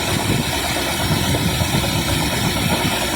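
Engine running at a steady idle just after its carburetor was cleaned and tuned, a loud, close, even rumble with slight vibration and no talking.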